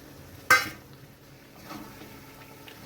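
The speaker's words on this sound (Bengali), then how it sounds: "চিংড়ি মাছটা দিয়ে আবারও মশলার সঙ্গে ভালো করে মিশিয়ে কিছুক্ষণ একটু নাড়াচাড়া করে নেব" Shrimp stirred with spices in a pan: one sharp clink of a utensil against the pan, followed by quieter scraping and soft sizzling stirs.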